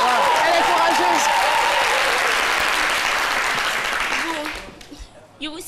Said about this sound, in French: On applaudit très fort pour elle